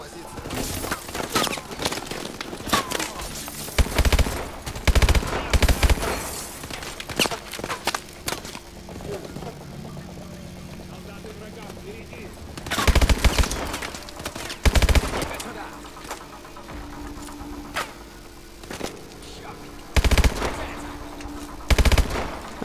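Automatic gunfire in Call of Duty: Advanced Warfare erupts in several sharp, loud bursts separated by quieter stretches, with a low droning hum and faint footsteps in between.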